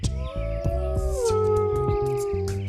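A singing dog gives a sustained, wolf-like howl whose pitch glides and wavers, loud and close, with a few short yips and whimpers breaking in.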